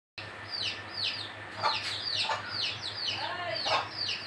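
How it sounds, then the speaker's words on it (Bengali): Several native chicken chicks cluck and peep repeatedly while they eat, their short chirps coming close and clear in quick bursts over a faint background hum. "যে এইগুলো হচ্ছে অরিজিনাল দেশি মুরগির বাচ্চা আর কি"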